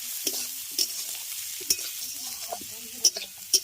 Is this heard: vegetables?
yes